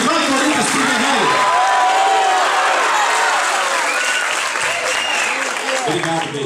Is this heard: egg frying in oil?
no